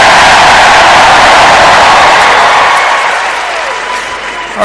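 A dense, loud convention crowd at the United Center arena cheers and applauds Biden, a steady roar of clapping and shouting that tapers slightly toward the end.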